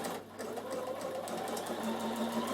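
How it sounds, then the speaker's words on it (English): A sewing machine stitches fabric with a steady, rapid mechanical whirr and chatter, close and moderately quiet, running continuously with a slight change in pitch toward the end. "your machine won't do anything if you sew off the end"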